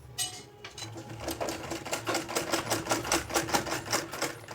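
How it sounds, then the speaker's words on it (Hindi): Sewing machine stitching a potli neck design on a kurti, a fast, even run of rhythmic mechanical clatter, close and steady. "इस जगह से बिल्कुल फिनिशिंग के साथ सिलाई लगाते हुए इस पॉइंट पर हम सिलाई को ख़त्म करेंगे"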